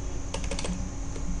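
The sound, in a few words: typing a username on a computer keyboard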